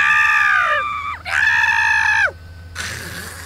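A voice imitates a screeching dragon with two long, loud, strained shrieks that bend downward at their ends, followed by a brief breathy rasp.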